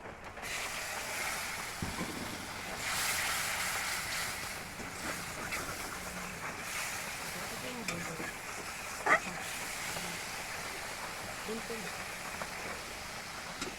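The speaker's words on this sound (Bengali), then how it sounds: "জল দিয়ে দেবো" Water goes into a pan of egg curry masala frying in oil, raising a soft, continuous hiss and bubbling sizzle at low volume, with faint stirring clicks and scrapes.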